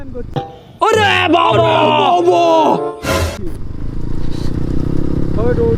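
A motorcycle engine revs loudly, rising and falling with gear changes, then settles into a steady rumble as the bike rides on.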